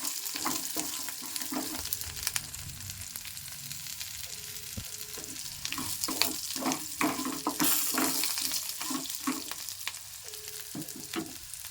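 Green chillies and cumin sizzle and fry in a pan while being stirred, with steady close frying crackle and repeated scraping stir strokes throughout; no talking.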